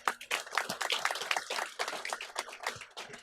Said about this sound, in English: I think we need a muted golf clap for Chris putting all these docs together.